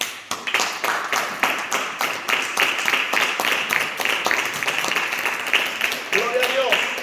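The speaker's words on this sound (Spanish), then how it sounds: "Le damos palmas al Señor." A church congregation claps along in a steady rhythmic beat during a Bible study service, sharp regular hand claps filling the room, with voices rising over the clapping near the end.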